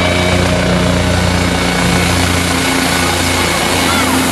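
A military helicopter in the Metal Slug video game gives a loud, unbroken rotor and engine drone with steady humming tones throughout.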